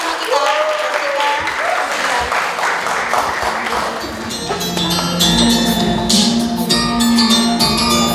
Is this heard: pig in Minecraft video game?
no